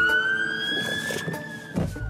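A fire engine siren in London wails at a distance, holding a long steady tone before changing, with some muffled background noise underneath.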